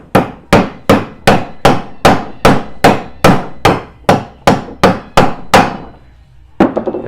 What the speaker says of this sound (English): I tap that in with a hammer